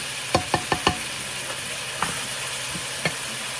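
Chicken breasts, peppers and onions fry in a pan with a soft, steady sizzle. Several short scrapes or taps come from a utensil, first bunched together and then spaced out.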